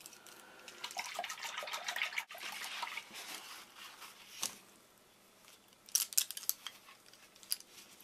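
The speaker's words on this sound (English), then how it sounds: "So I'm going to swish them all in this bowl of water." Paintbrushes used for acrylic paint are swished in a bowl of water, producing a steady splashing and sloshing that is close and continuous, then thins out before a few sharper drips and knocks.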